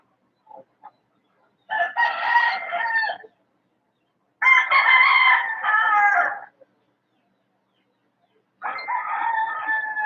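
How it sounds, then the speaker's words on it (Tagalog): A rooster crows three times, each call long and loud with pauses of silence between, near and alone. "Yung manok na lang."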